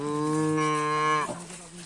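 A single cow lows loudly and close by at feeding time, one sustained tonal moo that drops off at the end, with no talking over it.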